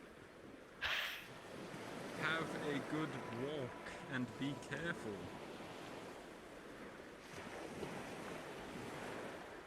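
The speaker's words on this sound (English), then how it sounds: "I can't hear you over this fucking ocean." Ocean surf rolls in a steady, roaring wash that persists through the whole stretch, with wind buffeting the microphone as people talk over it.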